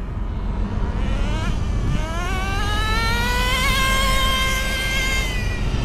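Traxxas Rustler 2.5 nitro RC car engine screaming at high revs, a loud, continuous buzzing whine whose pitch climbs and wavers as the throttle opens, steady throughout with no talk.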